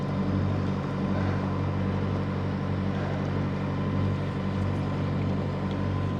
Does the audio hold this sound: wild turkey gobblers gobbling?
no